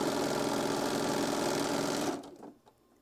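A sewing machine stitches quilting fabric down in a steady, fast, close-up mechanical rattle that runs for about two seconds and then stops, leaving faint handling sounds.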